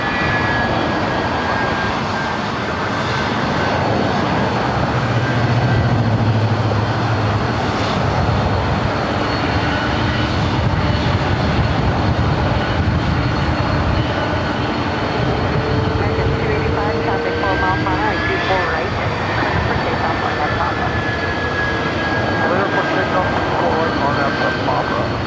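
Boeing 767-300ER jet engines roar steadily at LAX, a loud continuous whine and rumble lasting throughout with a faint tonal whistle, voices talking underneath.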